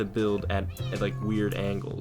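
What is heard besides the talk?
pet cat meowing in the background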